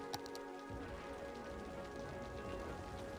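Steady rain falls in the city-building game Cities: Skylines, a constant soft patter at moderate volume, layered over a low, even hum with a few faint tonal lines.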